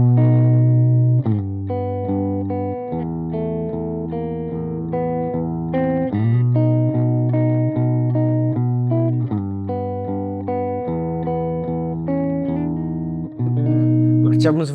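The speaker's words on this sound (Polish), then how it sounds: "to jest stary wzmacniacz i to jest oryginalny głośnik, słychać jak tu popiarduje wszystko, lekko się trzęsie" Sustained guitar chords play through a 1957 Fender Princeton amp with its original speaker, which crackles and buzzes slightly under the loud, steady, slightly distorted tone.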